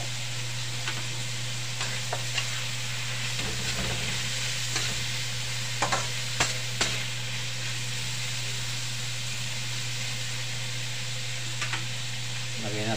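Tofu fries in a pan with a steady, soft sizzle beneath a constant low hum, punctuated by scraping and clinking as it is stirred, with faint talking now and then.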